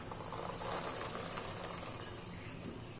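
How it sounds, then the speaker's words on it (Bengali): Popcorn being stirred into hot melted jaggery in a pan, a continuous sizzling and scraping hiss at moderate volume with no voices. "খুব ভালোভাবে নেড়ে নিচ্ছি, যাতে করে সব পপকর্নের সাথেই এই গুড় খুব ভালোভাবে মিশে যেতে পারে।"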